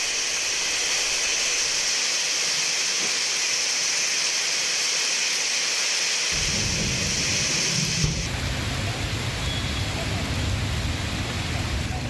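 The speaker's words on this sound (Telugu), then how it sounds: "పలు ప్రాంతాల్లో వడగండ్లతో కూడిన వర్షం పడింది" Heavy rain mixed with hail falls in Hyderabad as a dense, steady roaring hiss. The low rumble deepens partway through and the texture shifts slightly near the end.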